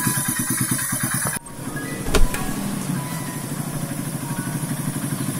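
An RKS 150 motorcycle engine runs at idle with a steady, throbbing beat. The tone shifts abruptly early on, followed by a brief louder burst, then the engine settles back into an even idle close by.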